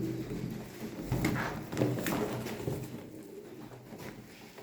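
Pigeons coo softly in a bird loft, low murmuring calls rising and falling through faint, muffled background rustling and patter.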